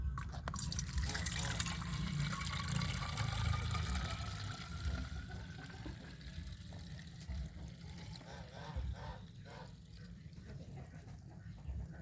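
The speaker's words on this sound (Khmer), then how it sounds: "ហើយយើងធ្វើការចាក់ទឹកវាពេញ" Water poured into a pesticide sprayer tank, mixed with a few drops of insecticide for spraying orange trees, splashes and gurgles steadily while the pitch of the filling slowly rises. A voice is faintly audible in the background.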